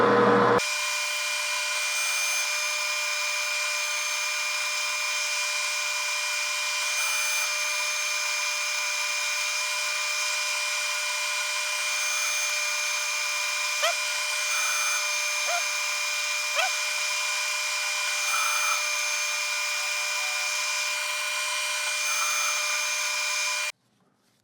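Metal lathe machining a spindle arbor with a 6 degree taper and 16 TPI threads, a steady loud motor whine with cutting hiss that runs continuously, with a few faint ticks, then stops abruptly.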